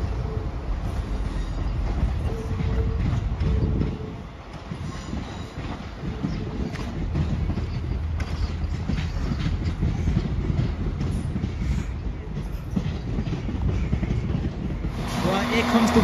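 A Holyhead to Cardiff Central train rolls through Shrewsbury station, its wheels rumbling low and steady with clickety-clack and faint squeals, the sound holding close and loud throughout with a brief dip.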